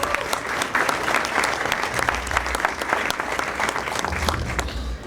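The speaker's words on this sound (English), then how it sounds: "Can we give them a round of applause?" Guests at an India Republic Day celebration banquet give a round of applause for honoured commissioners, a full, even burst of many hands clapping that holds steady for several seconds.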